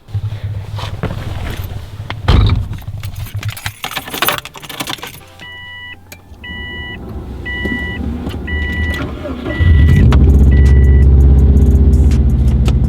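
A Subaru STI fitted with a new Perrin pitch stop mount: keys jangle and an electric window whirs before the engine starts and settles into a loud, steady, close-up rumble.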